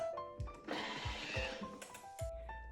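A Thermomix food processor churns cream with a pinch of salt into homemade butter, a steady broadband whirring roar swelling in the middle, with low thumps and faint tonal hums around it, close by and with no one talking.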